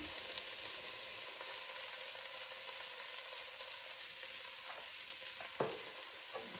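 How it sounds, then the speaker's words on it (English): Oxtails fry with flour in a pot for Southern-style braised oxtails, a steady soft sizzle with occasional spoon clinks and scrapes as it is stirred, fairly quiet and close, no talking. "I'm gonna go ahead and give that a stir."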